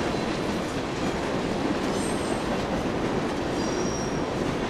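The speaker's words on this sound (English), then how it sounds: "Kanan and Sadaka slithered silently along the underside of the train, suspended just above the ties hurtling the paths beneath them." A train in the video game 428 rolls steadily along its tracks, with a dense rumble and rattle, faint clickety-clack, and brief squeals from the wheels, with no voices.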